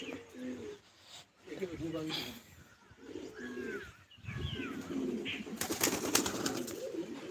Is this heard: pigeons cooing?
yes